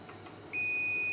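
An APC Back-UPS ES500 with a fault sounds its buzzer: two faint blips, then a loud, steady high-pitched electronic beep that holds on continuously, close by.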